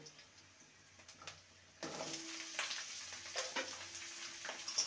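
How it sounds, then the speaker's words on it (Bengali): Vine spinach tipped into a pan of lightly fried onion for a vine spinach and prawn dish, a soft frying hiss jumping up partway through and holding steady, with faint scrapes and crackles. "সবজিগুলোকে ভালো করে ভেজে নেব।"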